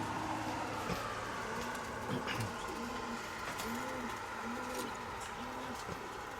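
A pet pigeon coos in a steady repeating pattern of low, rolling calls, close by, over a constant background hum.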